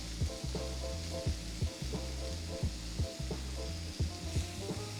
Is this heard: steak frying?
yes